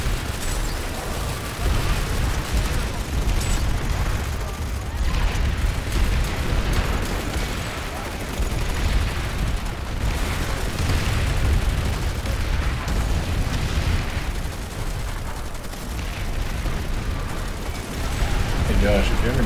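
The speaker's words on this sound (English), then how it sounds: "I'm just suiciding to throw these nades and getting like 2 to 5 kills a life" Grenades burst again and again in the shooter game Planetside 2, heavy booms rolling over a dense, loud wash of battle noise and gunfire that never lets up.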